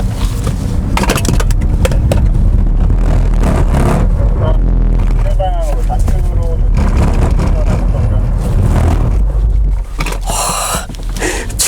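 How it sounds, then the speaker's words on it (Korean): A Kia EV6 GT electric car in drift mode on a wet circuit, with loud, steady road and wind roar and brief whining squeals, heard beneath continuous talking. "지금 드리프트 모드를 활성화한 상태인데요."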